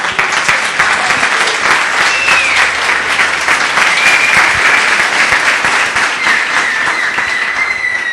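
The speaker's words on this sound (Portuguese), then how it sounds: "Palmas para o nosso Deus." Loud, continuous applause from a church congregation, a dense unbroken roar of many hands clapping that fills the whole stretch.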